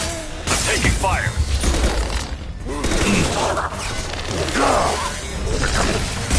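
Combat in the Mass Effect 2 video game, with dense crashing gunfire and impacts running continuously throughout, voices shouting over the chaotic battle noise.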